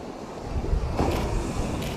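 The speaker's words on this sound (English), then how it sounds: "Here's a nice big wave coming." A big wave rolls in and crashes on the rocky Northumberland coast at Seahouses, a broad surging wash with a stronger burst partway through over steady wind noise on the microphone.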